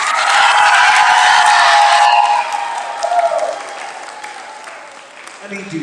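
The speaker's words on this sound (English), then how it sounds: "Give them a round of applause, please." Audience applause at a school Pan African celebration, a dense burst of clapping that is loudest for the first two seconds, then thins out and fades under crowd noise and voices.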